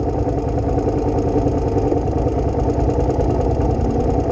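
A motorcycle engine idles steadily nearby with a low, even, slightly lumpy drone and no voices.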